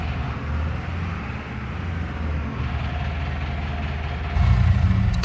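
Tractor engine idling steadily in Farming Simulator 25, a constant low rumble that grows louder and heavier near the end, with no talk over it.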